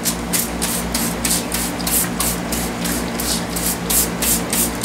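Water rinses over an anodized metal part at a home anodizing setup, a steady hiss of running water with a soft rhythmic pulsing throughout, close and continuous with no talk.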